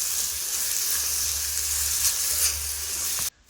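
Onions fry in an iron kadai for an Andhra-style crab fry, sizzling steadily and loudly up close with a low stirring rumble beneath, then cutting off abruptly at the end.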